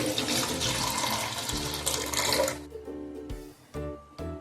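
Water drained from soaked rice and flattened rice pours and splashes steadily for a couple of seconds, then trickles and drips as the flow stops, with a few soft clunks of a container.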